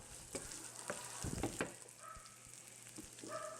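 Onions dropped into hot bacon fat in a pan give a soft, steady sizzle with a few brief stirring clatters, close and moderately quiet, with no voices.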